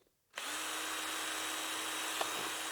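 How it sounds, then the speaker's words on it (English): A power drill starts abruptly after a brief silence and whines steadily at high speed, boring holes into wood continuously to the end. "I'll drill a few holes"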